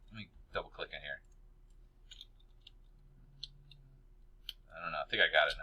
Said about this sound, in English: Let me double click in here.